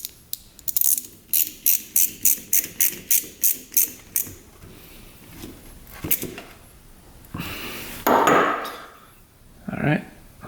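A ratchet clicks rapidly in a quick run of about a dozen strokes while tightening a bolt on a 20-year-old dirt bike, followed by scattered clanks and handling noises.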